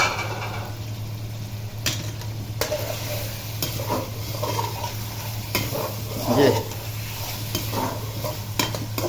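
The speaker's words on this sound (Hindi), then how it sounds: "ये जी कढ़ाई में ये पहले चिकन फ्राई हो रहा है" Chicken and chopped tomatoes fry in a non-stick karahi with a steady, loud sizzle, while periodic scraping stirs and a few clanks of a spoon against the pan sound close by.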